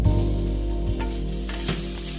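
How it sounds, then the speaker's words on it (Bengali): Flattened rice pulao is stirred in a pan, with a loud nearby sizzle, several scraping strokes of the spoon and a low steady hum from the stove underneath. "দিয়ে এবার আমি এটাকে নাড়বো।"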